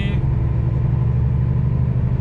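Car driving on the A4 motorway toward Venice, Italy: a steady, loud low road rumble and engine drone, continuous and close throughout.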